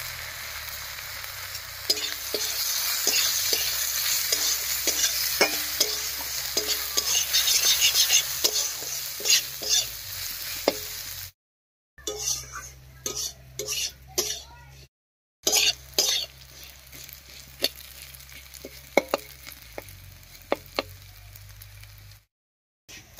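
Gobindobhog rice dusted with turmeric frying in mustard oil in a wok, a steady close sizzle with scraping stir strokes, broken by brief gaps of quiet; no talk.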